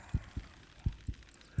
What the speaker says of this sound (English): Okay, we got a heartbeat.